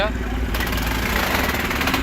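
A Swaraj 855 tractor, 2020 model on MRF tyres, idles steadily at a tractor market, its low continuous engine rumble loud and close throughout while someone talks over it.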